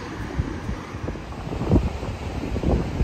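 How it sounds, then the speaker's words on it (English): Gusty wind buffets the microphone on a rocky beach below cliffs north of Moonlight Beach, low rumbling bursts rising and falling steadily over the whole stretch, loud and close. "Really windy today."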